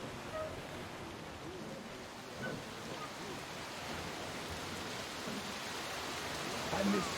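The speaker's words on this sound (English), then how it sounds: "a chuva parece muito real" Steady rain falls in the post-apocalyptic shooter game Metro Exodus, a soft continuous hiss of rainfall covering everything at low volume, with small faint knocks and a slight swell near the end.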